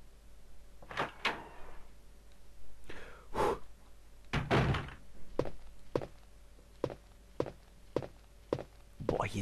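Door opening and footsteps in the Resident Evil 1 game, a dull knock and creak followed by a steady series of evenly spaced footfalls, fairly close and clear with no talk.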